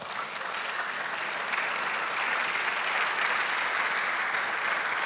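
A church congregation applauds during a sermon, a dense, even wash of clapping from many hands that holds steady throughout, with no speech on top.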